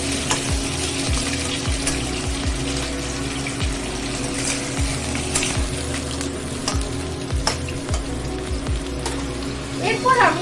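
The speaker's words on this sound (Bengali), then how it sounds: "সবজিগুলোর সঙ্গে 5 ফোড়ন আর শুকনো লঙ্কাটাকে একটু ভালো করে ভেজে নেব।" Vegetables frying in oil with panch phoron and dry red chilli, crackling and sizzling steadily throughout, close and full, with a low background hum and occasional utensil knocks.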